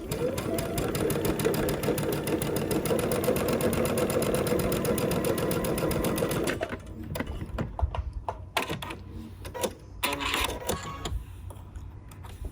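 A sewing machine runs steadily for several seconds while stitching a Tula Pink butterfly quilt block, then stops and gives way to quiet fabric handling and light clicks.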